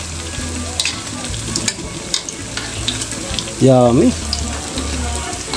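Ukoy banana-blossom fritters made with cornstarch frying in hot oil, with a steady close sizzle and crackle, a few utensil clicks and a brief tonal squeak partway through, while a voice speaks briefly.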